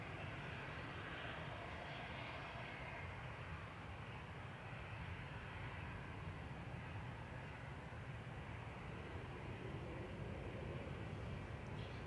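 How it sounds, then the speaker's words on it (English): An EasyJet airliner bound for Dalaman rolls for takeoff at Manchester Airport, a steady broadband jet roar holding constant and fairly close throughout with no voices. "Lined up and ready to go is EasyJet EZOU, heading to Dalaman with flight 2143 over to southern Turkey."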